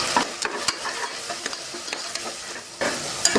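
Vegetables and tomato fry in a pan with chili and turmeric powder, sizzling softly while a utensil scrapes and stirs in irregular bursts, close and without talk.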